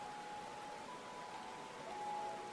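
Rain falling in the video game Final Fantasy XIV, a soft, even hiss of steady rainfall with a faint tonal hum underneath, no talking.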